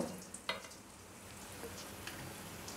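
Drops of boondi batter fry in hot oil, a faint, steady sizzle broken by a few soft taps and crackles.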